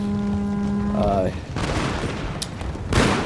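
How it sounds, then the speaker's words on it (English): Matchlock mountain gunners in Total War: Shogun 2 fire a ragged volley, a short cluster of crackling shots followed by a sharper report near the end, over game music and ambient battle noise. "I'm just gonna keep harassing him with my mountain gunners."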